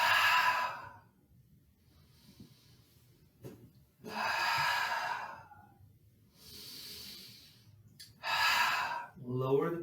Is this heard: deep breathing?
yes